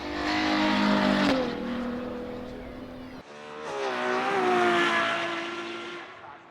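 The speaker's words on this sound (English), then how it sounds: "just hear these clips of a Ferrari Monza SP2 and A12 Superfast flyby" A Ferrari Monza SP2 and a Ferrari 812 Superfast, high-revving V12 sports cars, roar past one after another, each rising to a loud scream and pitch drop as it sweeps by.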